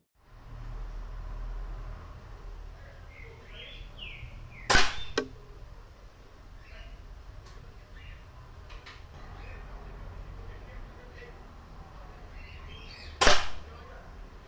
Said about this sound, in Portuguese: vídeo para vocês assistirem, de disparo com os chumbinhos que eu tenho aqui